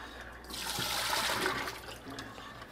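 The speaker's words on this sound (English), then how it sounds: "then just dump out whatever water you have inside here" Water pouring out of a grimy pet water fountain, a close, steady splashing gush lasting a couple of seconds before tapering off.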